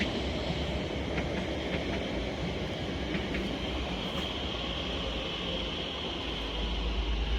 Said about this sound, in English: Here is 345045, working a Elizabeth line service from Sheffield to Heathrow Terminal 5 via Terminals 2 and 3.